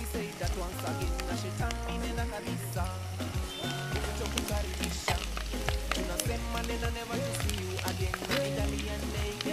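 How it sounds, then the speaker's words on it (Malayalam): Mustard seeds pop while ginger and garlic fry in hot oil, making a busy crackling sizzle that runs continuously beneath steady background music. "നമ്മുടെ കടുകെല്ലാം നന്നായി പൊട്ടി തുടങ്ങിയിട്ടുണ്ട്."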